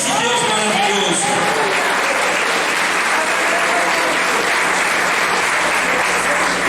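A church congregation applauds steadily and loudly at an anniversary service, dense clapping filling the room throughout with faint voices mixed in.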